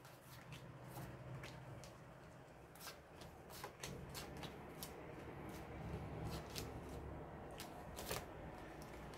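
Tarot cards are shuffled for a reading in soft, close bursts of riffling and flicking. The crisp snaps come in quick clusters at low volume, with no one speaking.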